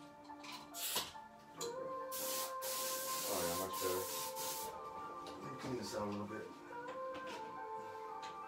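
A large paint spray gun fed by an air compressor hisses in long, steady bursts while painting a background, with a faint compressor drone and tonal hum underneath.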